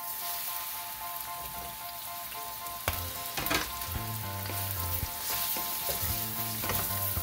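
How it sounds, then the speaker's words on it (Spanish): Rice sizzles steadily in a hot pan for red rice with vegetables, with scraping stirs and clinks of a utensil rising over the constant frying hiss. "Y así vamos a estar revolviendo hasta que empiece a cambiar un poquito de color"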